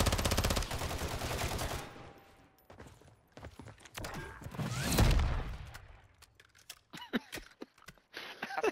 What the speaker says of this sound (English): Jack, stop shooting